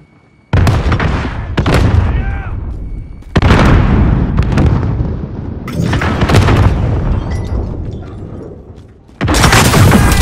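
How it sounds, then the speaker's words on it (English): Grenade blasts in the shooter Call of Duty: Modern Warfare, several loud, close booms each trailing off into rumbling debris. "Throwing grenade!"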